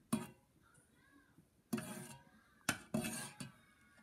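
A spoon stirs tea with a tea bag in a cup. Several distinct clinks against the cup ring out close by, separated by short pauses, with no speech.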